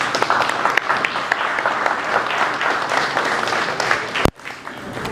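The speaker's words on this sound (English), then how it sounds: "Let's give a nice round of applause for Mr. Molina." A school cafeteria crowd gives a round of applause, steady and dense, close and loud, ending in a final sharp clap before a brief pause.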